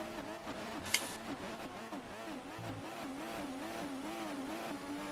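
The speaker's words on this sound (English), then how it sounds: "These cars are making some interesting noises" Race car engines in a racing video game drone and rev steadily at low volume, a continuous whining stream of engine tone with one brief click near the start.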